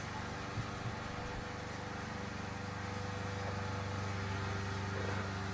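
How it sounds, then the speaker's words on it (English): A lawn mower drones steadily at a distance, faint and unchanging, with a low engine hum throughout. "sounds like my neighbor's got the lawnmower going."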